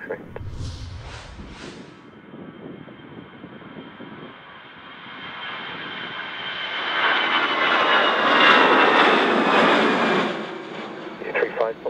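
A passenger jet departs runway 27 in stormy, gusty wind, its engine roar swelling from a distant rumble into a loud, broad whoosh; radio voices are heard early on.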